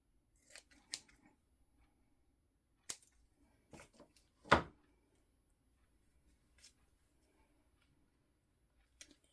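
Scissors trimming crafting material, a handful of quiet, separate snips spread through near-silence, one cut noticeably louder than the rest.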